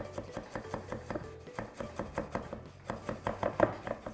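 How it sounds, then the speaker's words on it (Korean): Knife mincing garlic on a cutting board for a pork tenderloin cutlet egg wash, a quick, steady run of close, crisp chops in an uneven rhythm with brief pauses between them. "마늘을 조금 다져서"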